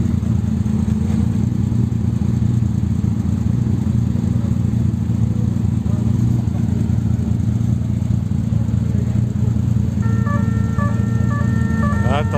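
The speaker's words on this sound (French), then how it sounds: "d'autres voitures prennent la piste là-bas au fond" Classic racing cars at the Magny-Cours circuit give off a constant, loud engine drone, with a brief high electronic beeping pattern near the end.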